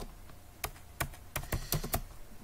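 HTML code is typed on a computer keyboard in sparse, close, sharp clicks, roughly six distinct keystrokes spread unevenly over a quiet room tone.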